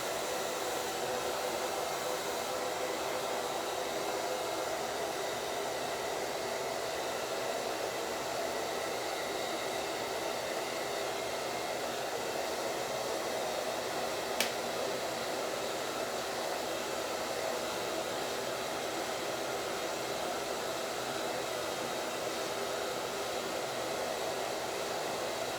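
A hair dryer blows continuously for the whole stretch while drying a pixie bob, a steady, close, loud airy roar with no breaks.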